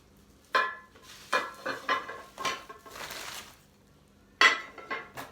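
Ceramic butterfly-patterned plates from a three-plate set being handled, with several separate clinks and light knocks of ceramic against ceramic, close and moderately loud, set apart by short pauses.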